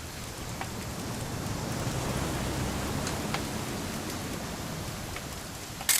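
Rain pours steadily in a video game scene, a dense continuous hiss of drops on surfaces with a few faint distant rumbles, no voices, ending on a sharp click.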